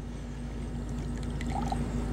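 Hot water pours steadily out of a DIY solar pool heater, a continuous splashing trickle at moderate distance with a faint hum underneath and no talking.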